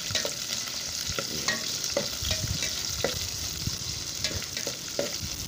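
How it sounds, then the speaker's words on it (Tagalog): Onions and garlic sizzling in a frying pan while being stirred, with steady crackling and repeated scrapes of the utensil, close and alone with no talk. "Mix natin ang sibuyas. Ihalo na natin yan guys."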